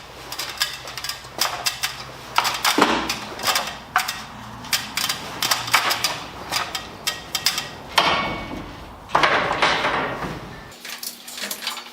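Conduit clamps are fastened in place overhead while running wire, with a busy string of sharp metallic clicks, knocks and scraping handling noises close by, irregular and fairly loud, stopping near the end.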